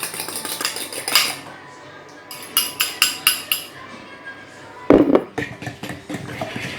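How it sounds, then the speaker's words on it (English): A fork whisks two eggs in a bowl, sounding as a run of quick rhythmic clinking beats against the bowl, then a louder clatter and more brisk tapping, close up. "Add 2 eggs, grab a fork, just get that all"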